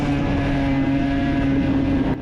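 Yamaha Aerox scooter engine with its restrictors removed, heard while riding on slightly wet asphalt: a loud, steady droning hum with a sustained tone that holds throughout and drops off slightly at the very end.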